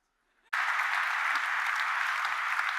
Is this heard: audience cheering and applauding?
yes